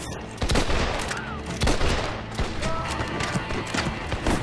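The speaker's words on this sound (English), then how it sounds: "This is cool, shooting at him into the sunrise" Gunshots in Red Dead Redemption co-op play at sunrise, as scattered cracks and pops over busy background noise with faint hoofbeats, some near and some more distant.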